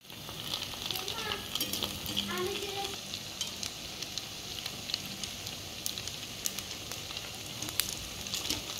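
Vadas frying in hot oil, a steady close-up sizzle and bubbling that runs unbroken throughout with faint clinks over it.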